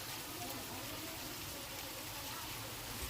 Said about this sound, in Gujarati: જો આપણે જોરદાર વરસાદ છે આ